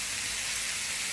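Onions and tomatoes sautéing in a pan for veg kothu chapathi, a steady close sizzling hiss without pause.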